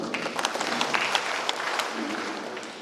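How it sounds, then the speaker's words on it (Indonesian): A crowd applauds steadily, a dense patter of many hands clapping at moderate volume for a few seconds. "Tepuk tangan untuk Ambruk."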